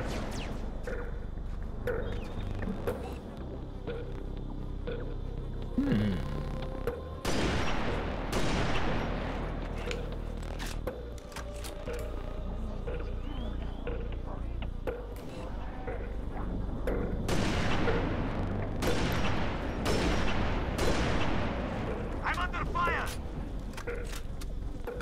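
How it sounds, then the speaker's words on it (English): Halo Reach game combat: repeated bursts of gunfire and booming explosions, including a grenade blast on a Grunt, with players talking throughout over the dense, continuous firefight. "That was a big explosion for a grunt."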